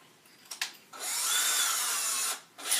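Power drill boring holes to install an ear on an AM 4.0 stunt helmet: two short blips, then a loud sustained whirring run of over a second, and one more brief burst, with no talking.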